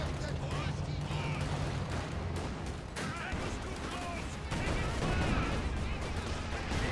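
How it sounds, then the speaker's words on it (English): An artillery barrage in Company of Heroes 2 rumbles as a dense, continuous wash of distant booms and explosions with no clear gaps between impacts, heard under a busy battle mix. "I hear some sort of barrage"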